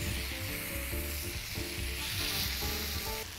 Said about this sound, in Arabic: هبتدي بقى دلوقتي احط الشيش طاووق